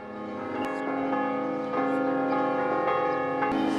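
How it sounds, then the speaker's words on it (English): Cathedral church bells ring out at noon in Gozo, Malta, with sustained, overlapping bell tones from bells of different sizes blending together, loud and continuous, with fresh strikes layering over the lingering resonance. "Just then, the cathedral rings its bell at noon."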